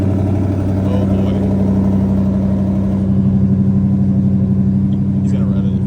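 A car engine sitting close and loud, revved with a steady rumbling drone over about six seconds, rising slightly toward the end, while people talk nearby.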